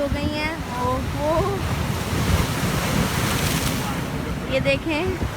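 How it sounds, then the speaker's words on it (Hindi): Strong waves roll in on the Jeddah seafront, steady loud surf wash mixed with wind noise on the microphone, while voices talk over the churning water. "अब जो लहरें बहुत तेज़ हो गई हैं।"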